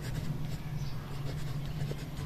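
Pen writing on paper during a maths lesson, a faint, steady scratching that runs continuously for a couple of seconds with no voice over it.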